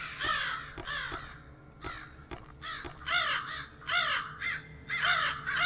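Crows caw in a video game, loud harsh calls coming in quick bursts of two or three with short pauses between, several birds overlapping over a low background hum.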